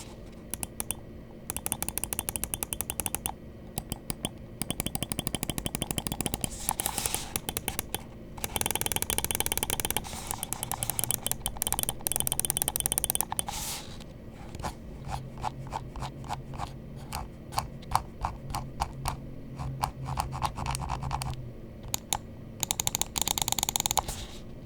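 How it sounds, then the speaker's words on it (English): Rapid, crisp clicking from the buttons of an ATTACK SHARK R11 ULTRA carbon fiber gaming mouse, close and fairly quiet, in dense runs of clicks with short pauses between bursts. "Let's go ahead and drop the click quality sound test."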